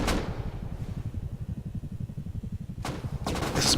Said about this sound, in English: I also hear my enemy is shooting at something.